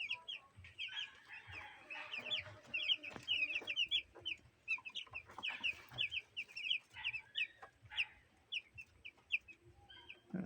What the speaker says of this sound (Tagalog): ayan na po yung ating mga manok